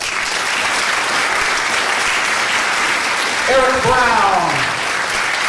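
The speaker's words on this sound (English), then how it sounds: "So please give a round of applause to Mr. Doorman Vishal Bohan," At a college speech night, an audience keeps up a steady wash of applause while a voice reads out a name over the top of it.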